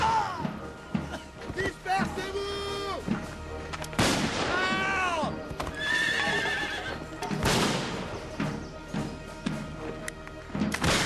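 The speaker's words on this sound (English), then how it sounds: "Stay with the horse." A horse whinnies several times amid a battlefield scene from a Waterloo period drama, its rising and falling neighs loud and close over clip-clop and distant gunfire, with no talking.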